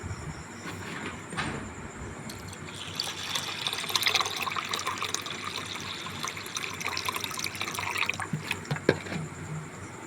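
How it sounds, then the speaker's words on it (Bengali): Water splashing and swishing as lentils are washed in a bowl and the water is poured off, a steady close wet rinsing sound running throughout with no talk. "একবার জলে খুব ভালো করে ধুয়ে নেব এই জলটা ফেলে দেব"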